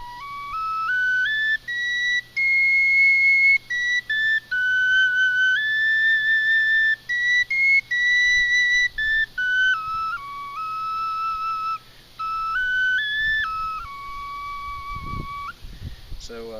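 Small Cherokee four-hole whistle playing a slow sequence of clear, pure notes that step up and down the scale, each held briefly with short breaths between, soft and close.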